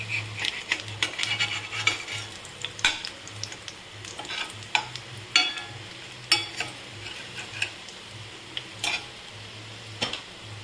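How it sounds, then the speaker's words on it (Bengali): Pumpkin leaf fritters frying slowly in a pan: a soft, continuous sizzle runs beneath repeated sharp ticks and clinks of a utensil against the pan, heard up close with no voices. "এটা তোমাদের সিম আছেই আস্তে আস্তে ভাজতে হবে, যাতে সুন্দর করে এটা ভাজা হয়।"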